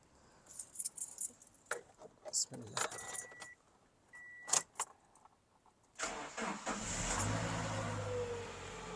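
A motorbike starts on its electric self-starter after jangling keys and a few clicks, then settles into a steady, close idle that fills the remaining seconds.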